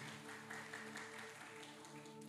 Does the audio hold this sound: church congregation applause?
yes